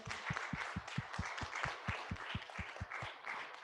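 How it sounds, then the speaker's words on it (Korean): A church congregation applauding one another at the close of a Sunday service, a soft rhythmic group clap with distinct beats roughly three per second, steady and unison, quiet and somewhat distant. "서로를 위해서 박수를 하겠습니다."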